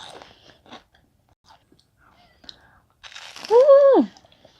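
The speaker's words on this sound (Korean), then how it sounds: "역시 새우튀김은 바삭바삭할 때 바로 먹어야 돼요." A few soft crunchy bites of fried shrimp up close, followed by a short rising-and-falling voiced hum.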